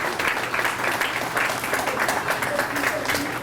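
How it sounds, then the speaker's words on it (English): Applause from an audience at an awards dinner, steady and fairly dense throughout, with voices talking underneath. "Yes, it's worth a round of applause."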